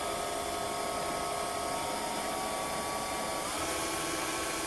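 A 775 DC motor spinning fast on a variable bench power supply, a steady high-pitched whine with a buzzing edge that shifts slightly in pitch partway through, close and continuous with no talking.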